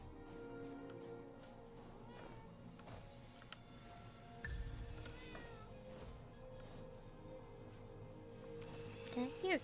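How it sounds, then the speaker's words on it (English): A cat meows faintly several times against a busy background of tonal electronic sounds and low noise, with a sharper cry near the end. "Did I hear a cat or am I crazy?"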